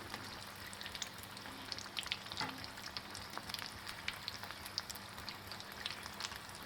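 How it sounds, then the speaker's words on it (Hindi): Bhakarwadi, coriander-filled rolls, frying in hot oil: a faint, continuous crackling sizzle with tiny popping bursts, steady and even throughout, heard close with no voices. "देखिए बाकरवड़ी अच्छे से फ्राई हो रही है"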